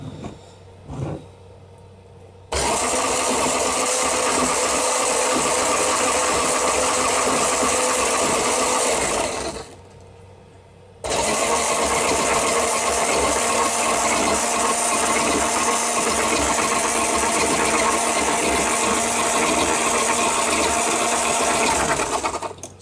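Battery-powered drive gears on a homemade big-wheeled mobile robot run with a loud, continuous mechanical whir and grinding rattle from tightly meshed gears, stopping briefly before starting up again for a long run.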